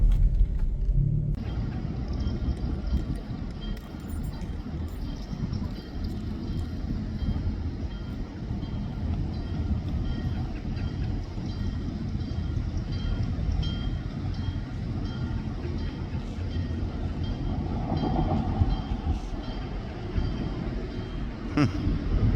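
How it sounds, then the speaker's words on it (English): A long freight train passes through a town, a steady loud rumble of rolling wagons and wheels continuing without break for over twenty seconds. "there's a train coming"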